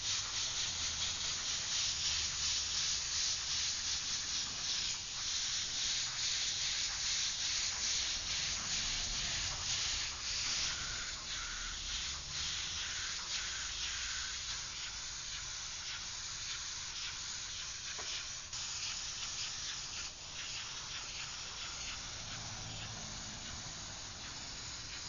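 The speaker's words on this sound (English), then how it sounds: "now we're ready to start spraying some color" Airbrush spraying paint colour, a steady breathy hiss of air and mist running close and continuous throughout, with faint rubbing and handling sounds beneath.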